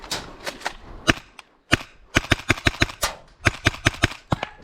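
Rapid sharp cracks of an MP7 gas blowback airsoft rifle firing during an airsoft skirmish, with single shots and short bursts at close range and quiet gaps between them.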